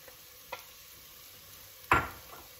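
Three garlic cloves drop into a hot pot with onions: a couple of faint soft taps, then a single sharp sizzling burst that quickly fades into a quiet simmer.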